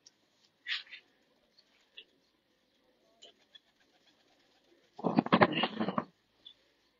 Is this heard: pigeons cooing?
yes